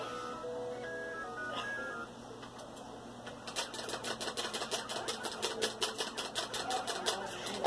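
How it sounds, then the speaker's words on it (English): A plug-and-play arcade video game firing rapidly, heard as a quick string of sharp, evenly spaced electronic blips after a brief stretch of quieter game tones, fairly faint and with no talking. "As you can tell by the noise, I'm rapid firing."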